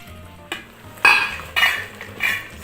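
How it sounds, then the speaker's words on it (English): Chicken browning in a pot for pilau in an electric pressure cooker, heard as soft frying under a few distinct metallic scrapes and stirs of a utensil against the pot, spaced about half a second apart. "So I can see my food is frying nicely. The chicken has browned."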